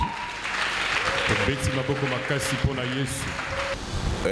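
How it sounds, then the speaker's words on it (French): A church congregation clapping and cheering loudly for Jesus during a sermon, a dense continuous wash of applause with a voice and vocal tones rising over it. "Acclamons très fort pour Jésus."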